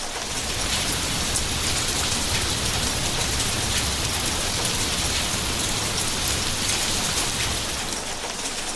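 Steady rain falls on bare ground, a dense, even hiss of drops holding at the same loudness throughout with no voices.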